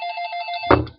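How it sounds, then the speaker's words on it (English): A telephone rings with a warbling electronic trill, followed by a short clunk as it cuts off. "Oh, good, the phone's ringing."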